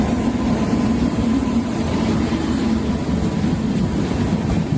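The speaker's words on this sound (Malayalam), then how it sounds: "നിലവിൽ ഞാനിപ്പോൾ റെയിൽവേ സ്റ്റേഷനിലാണുള്ളത്." A railway station hums with a loud, steady low rumble of a train, constant and close with no distinct events and no talk.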